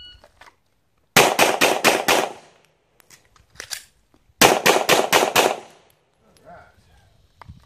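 Live-fire pistol shooting at an outdoor range: two rapid strings of five sharp, loud shots each, separated by a pause with handling noise in between, the reports close and punchy.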